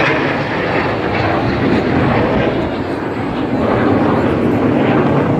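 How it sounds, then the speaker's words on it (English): Red Arrows jets flying double rolls at full power with coloured smoke, low over the Blackpool airshow, produce a loud, steady broadband roar that holds without a break from start to end. "going to fly the double roll. Full go, full power, coloured smoke, 6G, 20 degrees nose up, upside down at 300 feet"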